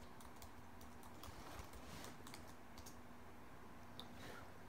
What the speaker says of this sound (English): Type in our password for sudo.